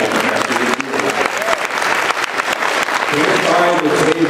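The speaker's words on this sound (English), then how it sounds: "you can applaud louder" Convention audience at MAGFest applauding loudly and steadily, a dense wash of clapping with some crowd voices mixed in throughout.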